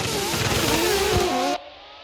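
Custom drift car launching from a standstill at a light and accelerating hard, a loud, close engine roar with rising revs climbing steadily for about a second and a half before cutting off abruptly.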